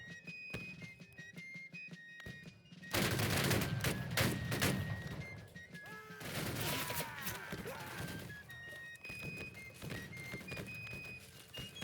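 Musket volley fire in the game Battle Cry of Freedom: after a quieter start, a dense burst of overlapping gunshots breaks out and rolls on as scattered loud reports, with shouted voices mixed in.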